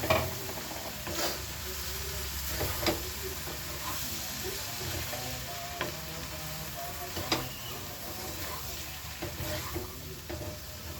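Okra (bhindi) fries in a pan with a soft, continuous sizzle, quiet and close, broken by occasional sharp clicks and scrapes of stirring.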